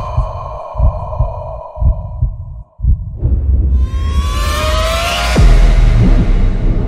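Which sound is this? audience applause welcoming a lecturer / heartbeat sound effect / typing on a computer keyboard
heartbeat sound effect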